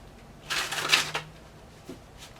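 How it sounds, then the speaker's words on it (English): Tarot cards are shuffled by hand in a quick, papery riffle burst lasting under a second, followed by a few faint flicks in a quiet room. "One more shuffle."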